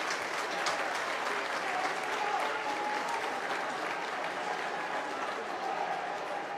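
Home fans at a Widnes rugby league match against London roar and applaud after a try, a steady, dense wall of crowd noise with clapping holding at full volume throughout.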